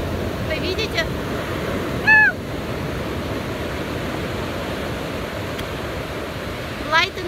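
Ocean waves and surf at a California state park, a continuous broad wash of breaking water up close, with brief bird-like chirps and faint voices at moments.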